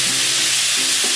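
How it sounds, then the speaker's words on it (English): Pork searing and stir-frying in a hot pan for a creamed brown sauce pasta, a loud, close, continuous hiss of sizzling fat filling the short moment. "we will stir fry our pork."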